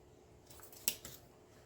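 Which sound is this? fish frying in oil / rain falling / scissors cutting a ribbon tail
scissors cutting a ribbon tail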